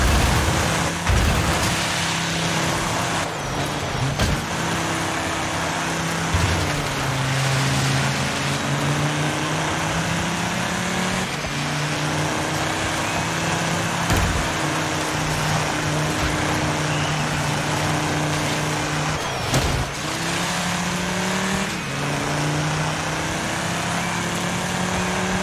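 Sports car engine revving steadily while driving through mud in the DIRT 5 racing game, a loud continuous drone that rises and falls with throttle, with brief bumps and shifts throughout and no voices.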